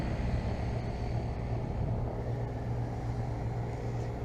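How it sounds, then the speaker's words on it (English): Rooftop AC package unit running, a steady low mechanical hum and drone heard outdoors at moderate distance, continuous and unchanging. "AC's running right now."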